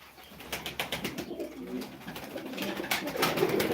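Pigeons coo in soft, repeated rounds nearby, with a rustle of movement under the calls.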